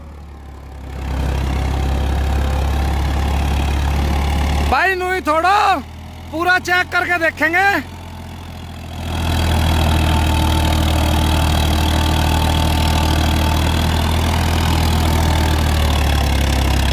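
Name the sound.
new tractor engine idling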